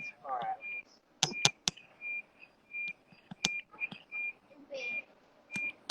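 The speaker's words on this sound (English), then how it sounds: "I'm hearing beeping." Short electronic beeps repeat in a steady rhythm, each a clear, thin tone with quiet gaps between. Sharp clicks and brief noises break in among them.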